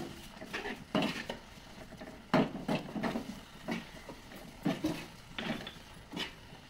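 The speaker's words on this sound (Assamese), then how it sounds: "তাৰপিছত এতিয়া লৰাই থাকিব লাগিব।" Semolina (suji) being stirred in a pan for potato rings, a spoon knocking and scraping against the pan in irregular clusters of clinks, close and moderately quiet.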